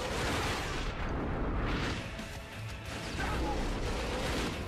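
Heavy gunfire and explosive booms from the first-person shooter The Darkness, loud and continuous with crashing impacts and dense battle noise filling the whole stretch.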